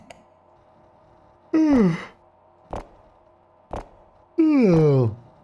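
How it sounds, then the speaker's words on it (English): A big human yawn, drawn out with a falling, moaning voiced tone, comes twice near the mic between short clicks and mouth noises, with no words spoken. "Sorry, that was a big yawn."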